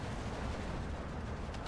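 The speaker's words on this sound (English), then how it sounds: "so much action going on right now, so many explosions, so much fire coming from everywhere" Distant rumbling explosions and artillery fire from a Steel Division 2 World War II battle, a dense continuous low roar with scattered muffled blasts and no clear single shot standing out.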